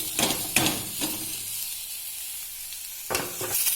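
Boiled radish pieces hit hot white oil in a kadai with a burst of loud sizzling and spatter, fading to a quiet simmer before another short crackling flare near the end.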